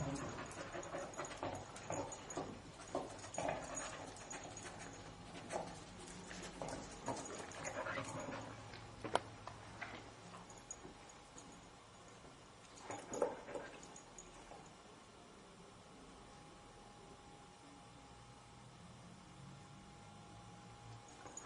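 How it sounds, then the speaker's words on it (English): A crime scene search dog trained to find human blood pants softly nearby, its quiet breathing mixed with faint shuffling and a few sharp knocks. "The second dog that we've seen work today is the crime scene dog, Keela."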